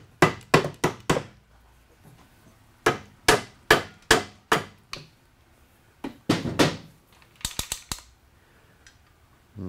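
Sharp hammer taps on pin bolts while lifting a babbitt bearing cap under strap pressure, landing in quick clusters of loud, close metallic strikes with short pauses between groups and no talking.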